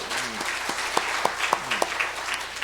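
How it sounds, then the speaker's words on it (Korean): A church congregation at a Sunday morning service claps briefly, a short burst of many hands with a few sharper claps rising above the mix. "박수 한번 쳐야 되겠죠, 이럴 때는."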